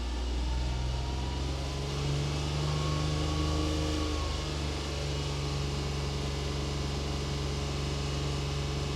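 A 1994 Suzuki Carry engine held at slightly raised idle revs gives a steady, even hum with a low drone that dips a little partway through, with no stumbles and no voices.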